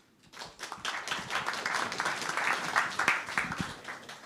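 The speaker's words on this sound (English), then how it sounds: "Let the new history start it now with a big round of your applause." A forum audience gives a round of applause, a soft swell of many hands clapping that rises from quiet and holds as an even, moderately distant wash.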